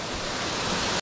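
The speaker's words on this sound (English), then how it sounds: "The falls is right there." Steady broadband rush of a waterfall at National Falls in Royal National Park, heard up close and loud with no voices, cutting off abruptly at the end.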